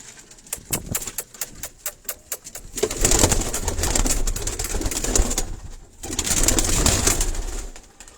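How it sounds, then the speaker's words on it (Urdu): Sialkoti breed pigeons being taken out of a rooftop loft, with a run of sharp wing claps and flutters, then long stretches of close, busy flapping and scuffling while soft coos sound in the background. "یہ بھی سیالکوٹی بریڈ کے کبوتر ہیں"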